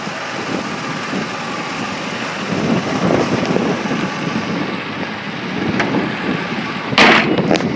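2006 Ford F-150 Lariat SuperCab pickup running after starting: a loud, steady engine rumble throughout, with a short sharp clatter near the end.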